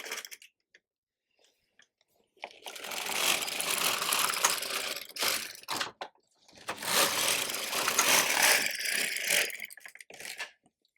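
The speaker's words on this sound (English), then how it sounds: "So now I'm going to knit 2 rows in green" An LK 150 knitting machine carriage rattles and clatters across the needle bed in two long passes, a mechanical ratcheting whir separated by short quiet pauses and small clicks.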